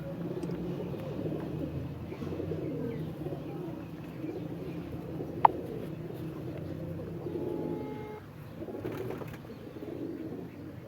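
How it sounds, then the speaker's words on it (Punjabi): Champion Sialkoti rooftop pigeons coo in low, steady murmurs through a busy outdoor scene, with a single sharp click partway through and background chatter. "ਤੁਸੀਂ ਵੇਖ ਰਹੇ ਹੋ ਸ਼ੌਕ ਕਰ ਰਹੇ ਹੋ ਉਹਨਾਂ ਕਬੂਤਰਾਂ ਦਾ ਜਿਹੜੇ ਪਿਛਲੀ ਦਫਾ ਦੇ ਇਥੋਂ ਚੈਂਪੀਅਨ ਨੇ"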